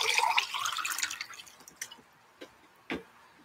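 Lemonade made with Crystal Light pours into a glass in a bright splashing stream that tapers off, followed by a few separate drips.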